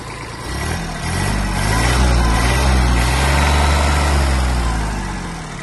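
Diesel engine of a Kubota A-195 Japanese mini tractor, a 1100 cc Kubota D1105 with its muffler in good condition, idles steadily at the exhaust, a loud, even low rumble with no voices over it.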